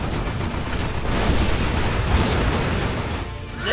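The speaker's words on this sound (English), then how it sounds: "They're shooting at us!" Battle in C&C Generals Zero Hour, Rise of the Reds mod: a dense, continuous roar of artillery bursts, gunfire and explosions fills the whole stretch at steady loudness, with no voices.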